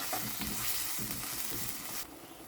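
Tomatoes fry and are stirred into a crab curry masala in a pan. A loud, continuous sizzle is broken by stirring scrapes and then drops to a softer hiss near the end.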